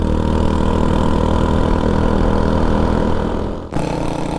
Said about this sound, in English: Oh, that is full throttle first gear.